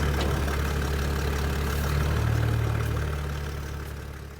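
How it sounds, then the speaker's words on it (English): A Toyota Land Cruiser HZJ75 engine, fitted with 33 by 12.5 inch mud tyres, idles during power steering work, a steady low rumbling drone that holds evenly, then fades slightly toward the end. "you want to have the engine running"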